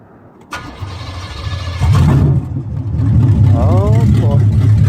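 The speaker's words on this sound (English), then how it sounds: "that's that cold start for you right there." A rebuilt 1991 GMC Sierra engine cold-starts with a sudden crank-and-catch, then settles into a loud, rough, rising idle while a person talks over it.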